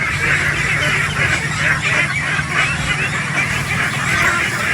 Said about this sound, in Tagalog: Ayan na po yung mga itik natin, naging wild na.